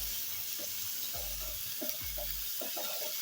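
Spices sauté in a pan for karela (bitter gourd) fry with a steady, soft sizzle and a few light scrapes of stirring. No voices are heard.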